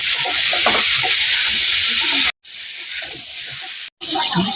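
Chopped bottle gourd fries in a pan with salt and turmeric, giving a loud, close, continuous sizzle with stirring scrapes. Two short silent cuts break the sound.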